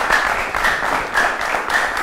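Brief studio audience applause at a 2019 election debate show, a dense patter of many hands clapping close and loud for about two seconds.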